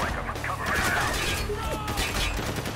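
A rapid burst of gunfire in the video game Spec Ops: The Line, a brief volley of cracks and clatter over busy game noise, with someone speaking over it.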